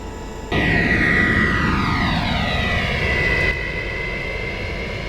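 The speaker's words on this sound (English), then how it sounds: "Clear for takeoff." Jet engines of a Boeing 707 in a flight simulator game roar loudly on the takeoff roll, a steady broadband rumble with a whining tone that shifts in pitch, then eases slightly near the end.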